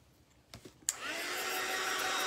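A hair dryer switches on with a sharp click and then roars steadily, a loud, close, continuous rush of air blowing cut fur off a handmade craft gnome after a few soft handling knocks.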